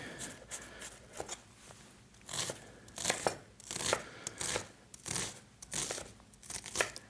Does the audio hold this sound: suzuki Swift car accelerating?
no